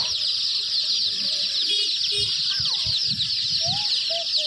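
Chickens at a shop selling colored chickens cluck and squawk intermittently under a loud, constant insect-like drone, with scattered close thumps and rustling.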